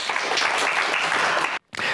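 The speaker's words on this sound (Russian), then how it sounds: "Эти аплодисменты вам." A studio audience at a Gomel television programme gives brisk, sustained applause. It cuts out abruptly for a split second near the end, then resumes at full strength.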